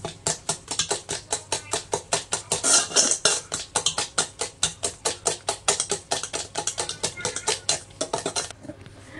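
Bengali pitha batter being stirred with a mixer gives a fast, regular run of scraping and tapping strokes, close and fairly loud, pausing briefly near the end.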